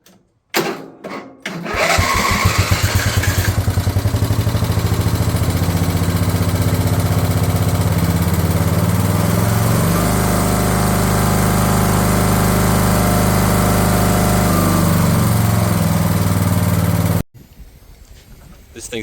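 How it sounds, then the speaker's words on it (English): The engine of a Craftsman LT1000 lawn tractor, fitted with a fuel solenoid, cranks with a few short bursts, then catches and runs at a loud, steady, close idle before shutting off abruptly. "I put a fuel solenoid on, so let's see how it runs now."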